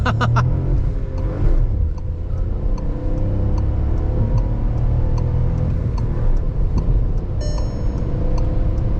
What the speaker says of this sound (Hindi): एक 0 से 100 में आपको दिखा देता हूँ। सो 1 व्हील स्पिन।